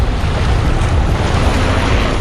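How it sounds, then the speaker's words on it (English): Sea waves washing onto a Maltese shore make a loud, continuous broadband roar with wind buffeting the microphone; a helicopter flying overhead is not distinct beneath the surf. "Waves and helicopter is flying for some reason."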